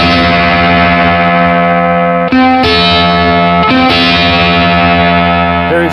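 Electric guitar plays a sustained two-note interval through a Lovepedal Believe effects pedal, giving a dense, distorted, shimmering tone; the interval is re-picked twice with brief breaks, loud and close throughout.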